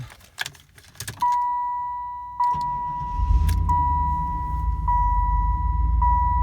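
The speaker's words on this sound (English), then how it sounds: "Shut the door here and start it up." Keys jangle in the ignition of a 1995 Chevrolet Camaro Z28 with a Flowmaster muffler, and a steady door-open chime sounds. The V8 then cranks and catches into a deep, steady idle rumble while the chime keeps pinging.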